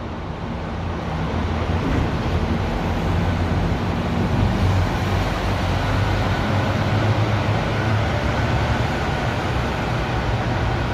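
A Postauto bus pulls out of Bern railway station, giving a broad, steady rumble of engine and road noise at middle distance with a wind-like hiss and no voices.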